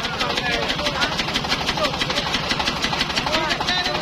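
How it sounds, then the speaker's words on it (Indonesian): A modified hand tractor engine runs steadily with a rapid, chugging mechanical pulse, close and fairly loud, while people talk over it. "Ragam inovasi modifikasi hand traktor dilakukan di berbagai negara di dunia, namun Bupati PD Roni Ahmad juga tak kalah"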